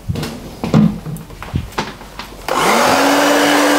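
A hair dryer fitted with a nozzle, used for scrunch drying short textured hair in a salon, starts after some handling clatter and knocks, then blows with a loud, steady whooshing roar and a rising motor whine.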